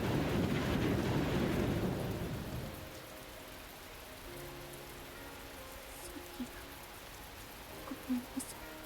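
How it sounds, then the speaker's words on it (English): Heavy rain with rumbling thunder in the visual novel Grisaia, a dense loud downpour that drops away after a few seconds to a faint steady patter with small scattered drips. "waits for the thunder to pass"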